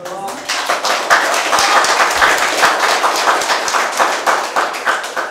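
Audience applause at a lecture on a national security crisis: dense, sustained clapping from a room full of listeners, filling the whole stretch at steady volume, with some voices mixed in.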